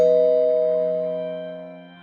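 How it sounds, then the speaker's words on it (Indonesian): House doorbell giving a single bright electronic chime that rings out loud and close, then decays slowly over two seconds. "saat itu bel rumah berbunyi, pertanda ada seseorang di depan rumah"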